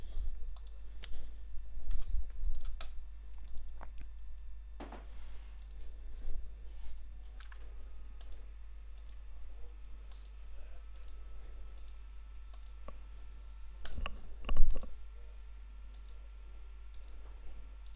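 Repeated computer mouse clicks, made while refreshing a ClimatixIC software upgrade screen, come as sharp, fairly quiet ticks at an irregular pace over a low, steady background hum, with one louder click burst near the end.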